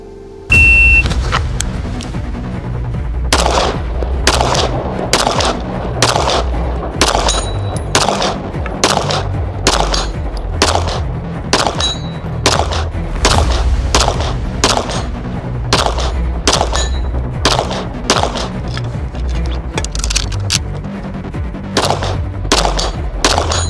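Pistols fire rapidly at a 50 yard Texas Star steel target outdoors, a long string of loud sharp shots at an uneven quick pace, with faint metallic pings between them.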